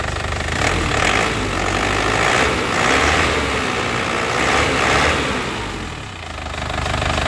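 Isuzu Panther diesel engine, a black 2010 GT, revving with a steady clattering drone that swells and eases in several broad waves, close and loud with no talking.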